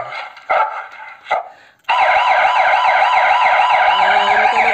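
An electronic siren played on a farm to drive monkeys away wails steadily and loudly up close after a few brief barking sounds, with no talk.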